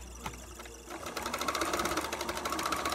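A sewing machine runs with the presser foot raised and apparently no thread, starting with a few faint clicks before the motor whirs up into a fast, even stitching rattle, close and alone.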